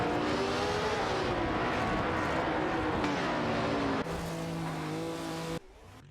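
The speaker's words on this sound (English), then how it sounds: "Racing car dashing away." AI-driven race cars scream away in a racing video game, their engines roaring loud and continuous, with pitch shifting through gear changes and abrupt level drops as the sound cuts between cars.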